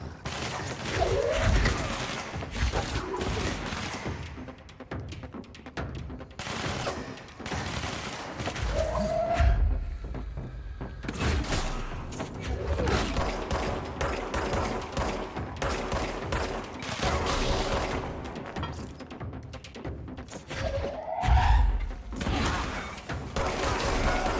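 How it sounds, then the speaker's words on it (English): Rapid bursts of gunfire in the game Control, loud and close, with repeated volleys and machine-gun rattles over a noisy combat background across the whole stretch. "Somebody's shooting at me."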